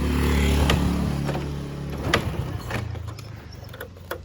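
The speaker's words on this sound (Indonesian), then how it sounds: "Mesinnya halus ya, halus ya, nggak ada ngebul." A 2000 Supra X motorcycle engine runs after a kick start, idling with a steady low rumble up close that eases off, while light mechanical ticks follow.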